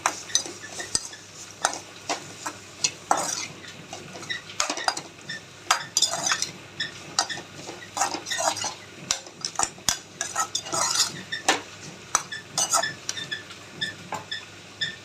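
Elephant yam pieces cook in oil with masala while a spoon stirs and scrapes against the pan, giving repeated clinks and metallic knocks over a quiet sizzle, close and without speech.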